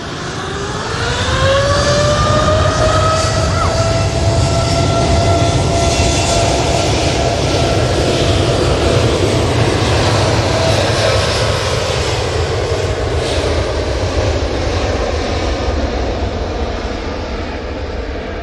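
Emirates Airbus A380 rolling down the runway, a loud sustained jet roar with a rising engine whine that climbs then levels off, steady and close for the whole stretch.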